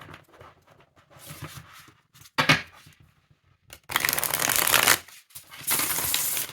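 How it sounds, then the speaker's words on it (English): Flexible standard-size tarot cards from The Housewives Tarot deck are riffle-shuffled in several bursts, each a loud, rapid fluttering rush of card edges, separated by brief quieter handling clicks and taps. "Let's see how they shuffle."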